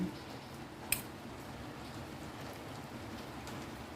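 Rain falls outdoors in a soft, faint, steady patter, with a single sharp click near the start.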